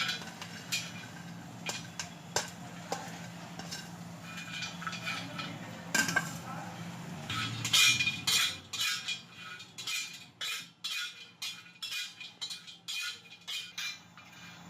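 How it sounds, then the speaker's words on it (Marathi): Coconut roasting on a tawa for Maharashtrian misal masala, stirred with repeated metallic clinks and scrapes that grow sharper and more frequent toward the end, close by with no talking. "तर तवा ठेवलेला आहे, त्यावर आपण खोबरं भाजून घेतोय."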